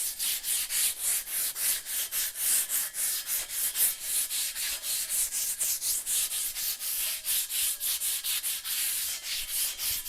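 Rusty metal is scuffed by hand to prepare it for paint: a long run of quick, even scratching strokes in a steady rhythm, close and moderately loud, with no voices.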